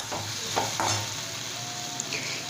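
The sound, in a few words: stirring boiled potatoes frying in a pan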